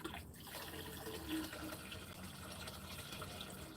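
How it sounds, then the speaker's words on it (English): Water running steadily from a tap, a continuous soft rushing and trickling that holds an even level throughout, with a faint splash near the start and no voices. "Water."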